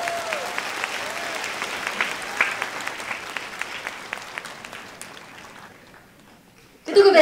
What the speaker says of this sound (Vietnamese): quý vị một tràng pháo tay thật to một lần nữa cho Hoa hậu Á hậu phụ nữ người Việt